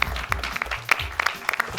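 Scattered, uneven claps from a small audience at a doctoral competition finals event, with individual hand claps standing out rather than blending into a steady roar.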